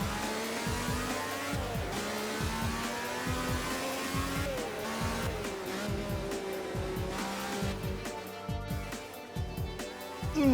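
Vintage Formula One car racing through a banked corner in Assetto Corsa, its engine screaming steadily with repeated shifts and revving pulses, tires squealing as it holds speed close and loud throughout.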